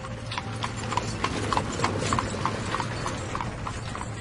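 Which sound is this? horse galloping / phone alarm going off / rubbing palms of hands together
horse galloping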